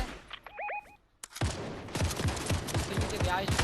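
Gunfire in the Fortnite video game: after a short quiet stretch with a couple of electronic tones, a rapid series of loud, close shots rattles on steadily until the end.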